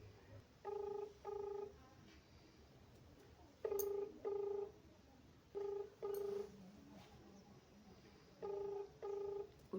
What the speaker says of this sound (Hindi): हम फोन मिलाते हैं और फिर बात करते हैं